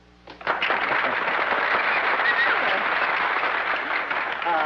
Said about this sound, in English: there's nothing like a little applause to brighten up the house on a moody day